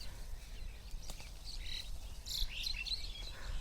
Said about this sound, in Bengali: পাখিগুলা কি সুন্দর কিচিরমিচির করছে